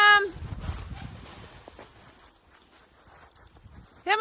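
Horses moving about on a dark, snowy Canadian morning while being fed, with soft hoof clops and shuffling close by, a brief voice at the start and another at the very end.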